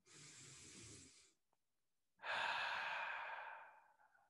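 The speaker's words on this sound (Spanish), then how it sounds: "Vamos a hacer tres de estas inhalaciones y respiraciones profundas." A deep breath during a guided meditation: a slow audible exhale through the mouth, a short pause, then a long, strong inhale that gradually fades, heard alone and close.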